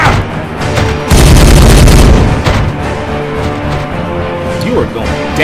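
Gunfire and explosions in Warhammer 40000 Regicide, Space Marines against Orcs: loud booming blasts and crackling shots in a dense battle din, with voices talking over it.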